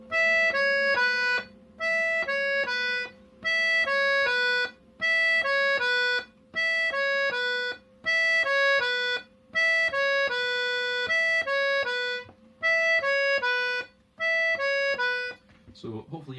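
An accordion plays a short tune phrase by phrase, clear repeated melodic runs with brief pauses between them, close and fairly loud, with a steady drone beneath.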